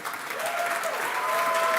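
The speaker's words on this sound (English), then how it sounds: "A big round of applause, actually, for Raleigh" Audience at a startup event breaks into a round of applause, a dense steady wash of clapping that holds for the whole stretch with a faint voice or tone running through it.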